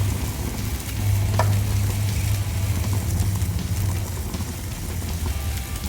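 Burger patties sizzle steadily in a hot pan, a continuous dense frying hiss with a few faint scrapes, close and alone with no talk.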